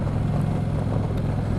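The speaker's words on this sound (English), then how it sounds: "I'm loving the exhaust note." An Indian Chieftain motorcycle with its stock exhaust rumbles while riding, a low, steady engine drone mixed with wind noise, continuous and fairly loud.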